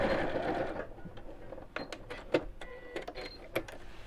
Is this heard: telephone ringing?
no